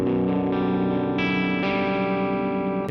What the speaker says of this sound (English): nice little crunch amp with the master at half, but you go full on, it becomes a distortion amp for sure